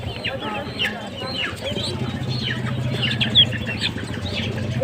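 Chickens cluck and chirp at a busy Tuesday poultry and livestock market, with mixed bird calls and the odd flutter heard under steady nearby conversation and crowd murmur.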